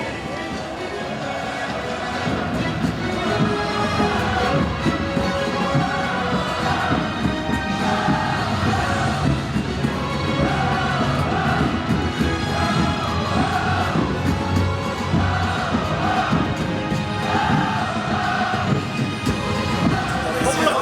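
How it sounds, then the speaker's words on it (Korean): A football stadium crowd at an FC Anyang home match against Cheonan keeps up a continuous roar of applause and cheering as the players walk onto the pitch. An announcer's voice carries over the crowd. "팬 여러분, 우리 선수들을 뜨거운 박수로 환영해 주십시오"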